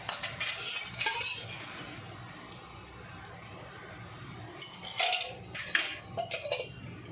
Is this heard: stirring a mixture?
yes